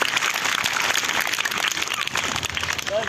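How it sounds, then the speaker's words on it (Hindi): Audience applause for women carrying kalash pots at a Gayatri mahayagya gathering, a steady wash of clapping at moderate level, a little distant, with a faint voice near the end. "तो कलश वाली बहनों के लिए तालियां तो बनती हैं,"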